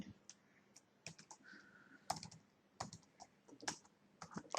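Keys clatter on a computer keyboard as a channel name is typed, an irregular run of close, crisp clicks in short bursts with brief pauses between them.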